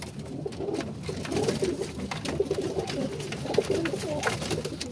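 Teddy pigeons cooing in a home loft setup, a steady stream of overlapping low, throaty coos at close range with no talking.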